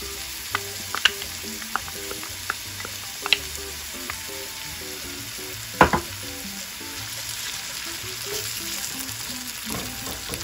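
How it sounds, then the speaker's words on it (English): Tomato sauce sizzling in a frying pan with sofrito for Cuban Habana-style eggs, a steady close frying hiss with scattered sharper crackles and a few clinks of a utensil against the pan. "now I'm going to add in my tomato sauce"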